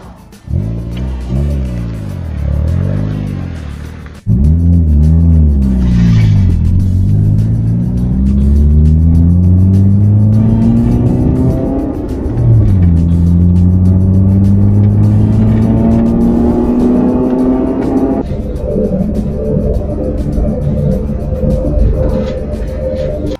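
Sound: Honda CR-Z hybrid car driving on the street

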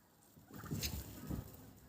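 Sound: turkey gobbling

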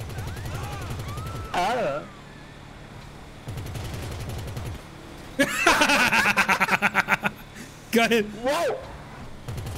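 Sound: gunfire shooting at tires in video game GTA V Online

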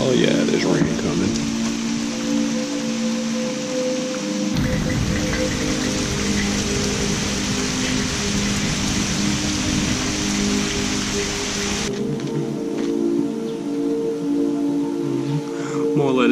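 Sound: rain falling

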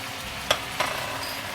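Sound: bell peppers stir-frying with pork in a pan

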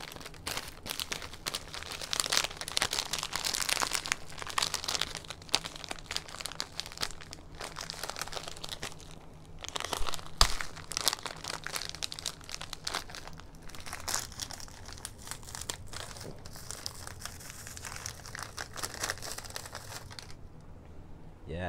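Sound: cellophane wrapping crinkling while being opened

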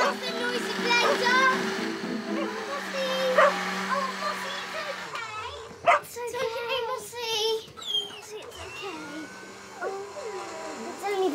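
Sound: dog barking at a noisy blender

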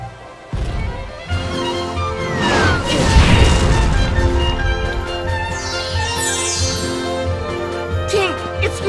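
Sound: cannon fire in a video game

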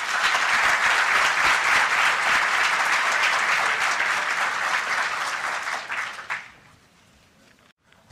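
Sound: audience applause at a congress opening

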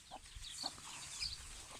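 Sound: chicks cheeping in a garden

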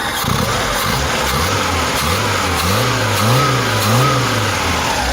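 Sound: engine running at low revs

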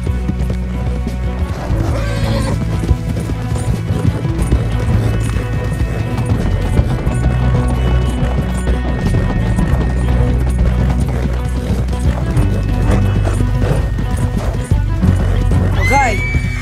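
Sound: horses galloping and neighing in video game

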